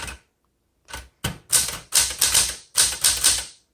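Typing on a 1974 Smith Corona Galaxie 12 typewriter, close and loud: a couple of isolated key strikes followed by a quick run of sharp clacks, with no speech.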